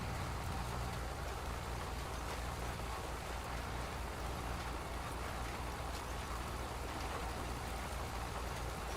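Rain falls in Farming Simulator 25 on the Kentucky map. It is a steady, dense hiss of rainfall that holds even and unbroken throughout, with no voices.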